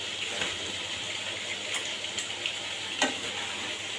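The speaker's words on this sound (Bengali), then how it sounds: "এবার মশলাটা ভালো করে কষিয়ে নিচ্ছি আলু দিয়ে।" Spices and potatoes frying in a pan for an aubergine curry, a steady close sizzle with soft stirring scrapes and a few brief clinks, no talking.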